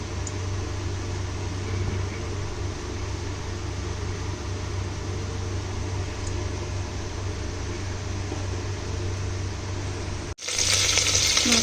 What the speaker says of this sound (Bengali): মাছের মাথার টুকরোগুলো আমি অল্প অল্প করে আমি এই কুকারে ভেজে তুলে নেব।